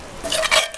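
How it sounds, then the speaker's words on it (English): Spicy beef and broccoli noodles are stirred in a pan, a short close scrape and swish of food against metal with a faint sizzle beneath. "stirring this stuff around"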